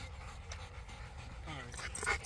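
A dog pants in quick, breathy bursts close by, mixed with a little whimpering, while people talk in the background.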